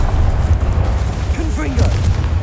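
Expelliarmus disarming spell cast in Hogwarts Legacy, a loud booming magical burst over dense, rumbling game sound.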